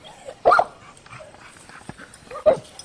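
Game dogs at a kennel, lying low in extreme heat near 100 degrees, give two loud, close single barks about two seconds apart, with faint whimpers and yips in between.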